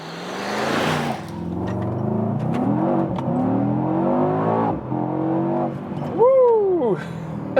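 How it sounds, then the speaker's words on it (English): A 2022 Mercedes E63S AMG facelift with a V8 engine accelerates hard, its engine note climbing through the gears in a loud, sustained roar heard from inside the car, with a voice briefly exclaiming near the end. "this was a very nice acceleration and also a good old V8 sound"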